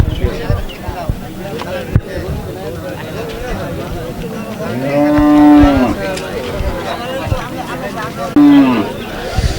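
A cow moos loudly twice at a busy cattle market, one long low call in the middle and a shorter one near the end, over a steady crowd hubbub with people talking throughout.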